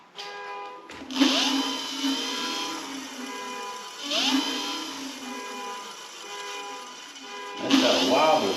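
A YUME X7 electric scooter's motor whines in steady tonal bands, rising in three separate spin-ups that each settle into a sustained hum, close and moderately loud, with a brief hiss-like burst at each start.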